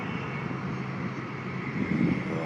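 Two diesel pusher locomotives at the rear of a heavy timber freight train drone on without a break, a deep low roar with a broad hiss over it, fairly close and constant.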